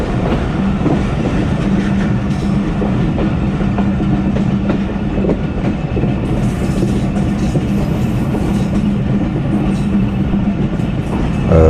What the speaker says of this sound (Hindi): ड्राइवर साहब काफ़ी देर से ट्रेन को आइडल थ्रॉटल पे रन कर रहे थे और अभी उन्होंने ब्रेक्स भी लगानी शुरू कर दी